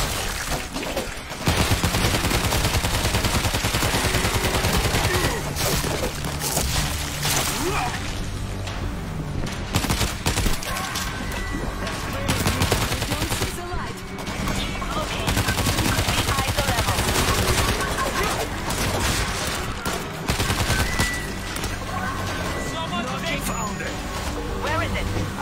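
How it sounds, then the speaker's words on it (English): Continuous, dense gunfire from the video game World War Z, with overlapping automatic bursts and booms throughout and players' voices talking over the shooting. "Watch where you're shooting."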